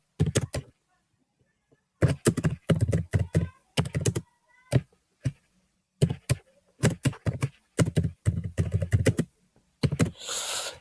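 Bursts of typing on a computer keyboard as the word for promotion is entered in capitals while setting up a product ad, rapid key clatter in clusters separated by short pauses, close and fairly loud, no talk.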